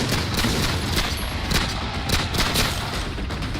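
A rapid burst of gunfire crackles continuously, many sharp shots layered into a dense, noisy fusillade, inside the US Capitol in Washington DC during a riot.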